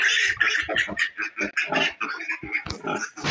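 Pigs on a farm grunt and squeal continuously, close up and loud, with overlapping snorts from several animals in a pen.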